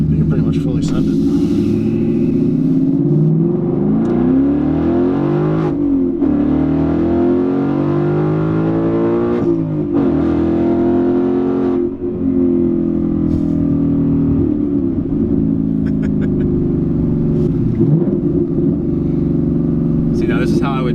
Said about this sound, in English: When you have an exhaust that sounds this good, how could you not?